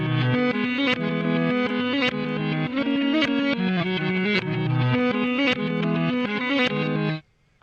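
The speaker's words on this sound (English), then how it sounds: "Kind of love that backward Strat sound." A Fender Stratocaster electric guitar part played backward from a 2006 rock quartet recording, a dense, distorted, swelling chordal passage with reversed attacks, loud and continuous for about seven seconds before cutting off abruptly, with no talking.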